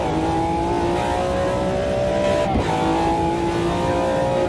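A road car in the Automobilista 2 racing game crossing the finish line, its engine holding a steady high whine with a brief dip and shift midway, loud and close with no talk.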